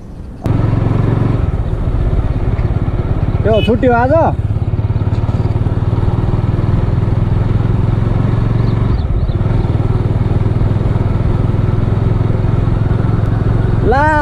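A motorbike ridden along wet, muddy roads after rain, with a passenger holding on behind, drones steadily and loudly throughout while people talk over the engine noise.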